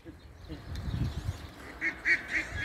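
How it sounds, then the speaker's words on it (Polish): Ducks quack nearby in a short run of four rhythmic calls, rising over a background of low murmuring and outdoor noise. "O, kaczki."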